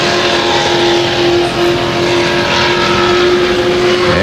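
Darrell Waltrip's NASCAR race car on a 2000 qualifying lap roars loud and steady at high revs, its engine drone holding a constant pitch throughout with no talk.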